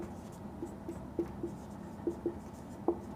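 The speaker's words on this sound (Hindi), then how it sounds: "तो संविधान की परिभाषा लिखते हैं" A definition being written by hand, with soft, irregular scratching and tapping of a pen or chalk at intervals over a steady low room hum.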